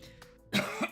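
A single close, loud cough bursts out after a quiet moment, followed by a short second huff.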